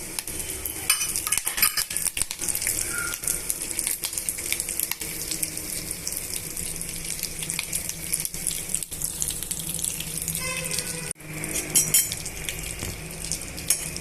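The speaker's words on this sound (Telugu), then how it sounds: "ఇందాక మీరు చూపించినట్టు తాలింపు గింజలన్నీ కూడా ఇందులో వేసేసుకోండి" Tempering seeds for ven pongal dropped into hot ghee in a pressure cooker, giving a steady dense sizzle and crackle that runs the whole time with no talking.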